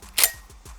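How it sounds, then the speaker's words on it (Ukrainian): The bolt handle of a semi-automatic shotgun is pulled back, a single sharp metallic snap followed by a couple of faint, soft clicks, close and dry with no one talking. "Перше, що нам потрібно зробити, це потягнути за цю рукоятку затвора."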